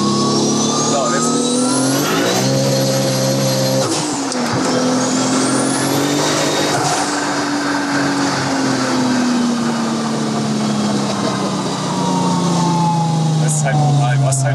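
A light 1000 hp race car on a race track revs hard and accelerates, its engine pitch climbing in repeated loud sweeps through the gears, with people talking over the roar.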